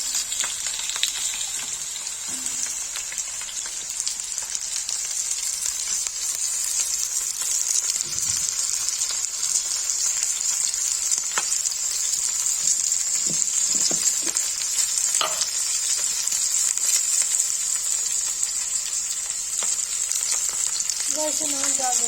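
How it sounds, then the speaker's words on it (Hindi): Nadru, sliced lotus stem, frying in hot oil for Kashmiri palak nadru, a bright continuous sizzle with crackling spits and occasional stirring, close and steady with no talk. "तेल गर्म हो जाएगा तो नदरू फ्राई करेंगे।"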